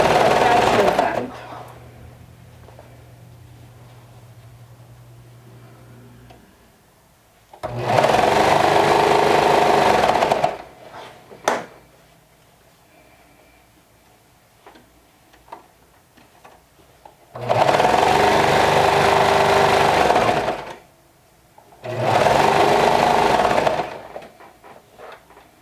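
Sewing machine stitching a band onto a garment with a quarter-inch seam, running in four loud bursts of a few seconds each, separated by quiet pauses.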